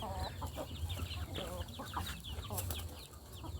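Domestic chickens in a low-cost backyard henhouse, a busy, continuous chorus of clucks and short calls from several birds close by.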